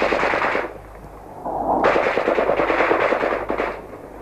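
Rapid bursts of automatic gunfire crackle in a war zone in Bosnia, with a loud opening volley, a brief lull, then sustained rattling fire at moderate distance.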